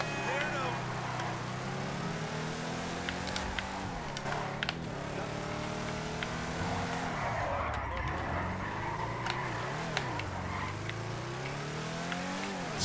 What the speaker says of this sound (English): Yeah, she sounds nice. Got a very stock car purr to it.